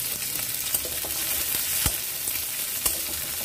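Chopped onion, garlic and dried chilli crackle in hot oil for a tempering, a bright steady sizzle close up with a few sharp taps from a spoon against the pan.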